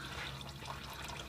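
Engine oil draining steadily from a small four-cylinder Toyota Matrix, a continuous close trickling, liquid splash with no talking.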